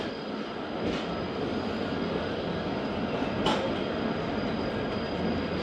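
Steady, loud rolling rumble and clatter of a passenger train on the Multan to Karachi line, with a couple of brief sharp squeals from the wheels and no voices.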